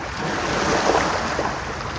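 Water waves wash and surge in a steady, continuous rush with a gentle rise and fall, heard alone and moderately loud with a breezy, windy texture.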